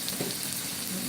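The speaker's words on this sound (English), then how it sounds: "You put in this first. And let them saute them." Ingredients for callaloo sauté in a pan with a steady, dense sizzle that runs throughout the short stretch, close and moderately loud.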